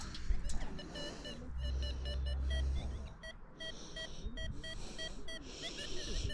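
A Deus II metal detector searching in water emits repeated high electronic beeps in uneven bursts over a steady background hum, with a short pause midway.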